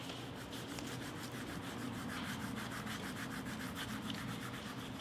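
Paper laid over a leaf is rubbed to bring out its veins and edges. Quick, even strokes make a close, dry scratchy rasp that repeats steadily without pause.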